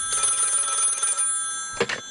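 A telephone bell rings in a fast, trilling burst that stops, then after a short gap rings again briefly, loud and close with no voices over it.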